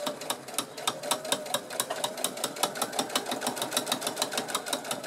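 Sewing machine stitching fabric near a zipper on a backpack, running steadily with a fast, even rhythmic clatter of needle strokes, close and continuous, with no talking.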